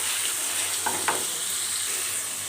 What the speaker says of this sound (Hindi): तो अब मैं इसमें लहसुन अदरक का पेस्ट ऐड कर दूंगी और लहसुन अदरक को सौते करेंगे